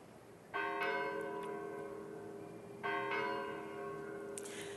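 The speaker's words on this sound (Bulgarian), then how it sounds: "1 милион камбани в цял свят зазвъняха" Church bells ring out in a worldwide call for the release of hostages, two clear resonant strikes a couple of seconds apart, each leaving a long humming decay, loud and alone with no talking.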